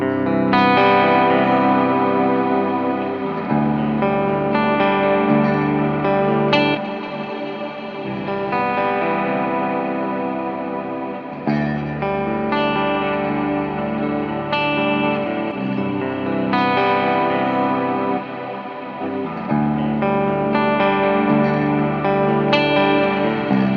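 Baritone guitar through a Strymon Iridium amp modeler, with compression and reverb: a sustained, distorted chordal part with chorus-like shimmer and steady strummed phrases, played alone and upfront.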